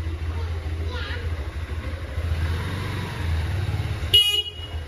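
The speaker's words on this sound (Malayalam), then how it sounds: "ആരാ ഹോൺ അടിക്കുന്നേ?" A vehicle horn sounds once in a short sharp blast near the end, over a low idling engine rumble and background talk.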